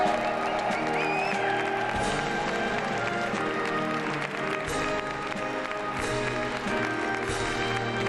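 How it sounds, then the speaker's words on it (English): A crowd applauds as President-elect Donald Trump walks out at his inauguration, sustained clapping and cheering heard through a broadcast mix with a voice talking over it. "Trump walking out to tremendous applause"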